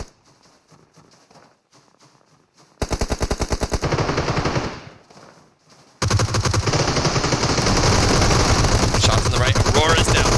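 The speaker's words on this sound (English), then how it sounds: "Shots on the right." Automatic gunfire in the PUBG Mobile video game rattles in rapid, loud bursts: a short stretch of shooting, a brief pause, then a long, unbroken volley.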